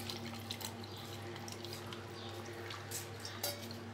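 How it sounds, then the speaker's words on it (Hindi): Milk pours into a mango milkshake in a blender jar, giving a steady liquid stream with faint clinks beneath a constant low hum. "और इसमें जाएंगे 2 ग्लास मिल्क के"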